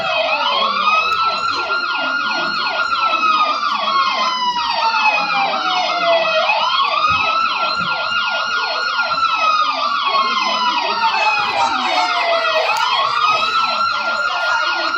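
An ambulance siren wailing loudly and close, its rising and falling tone sweeping in repeated cycles without a break, with faint road noise underneath.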